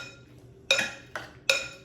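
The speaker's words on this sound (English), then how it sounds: "you do want to mix it in a bowl like this" Three sharp clinks of a utensil against a bowl as pasta is tossed with pesto, each strike bright and close, spaced irregularly over a quiet background with no speech.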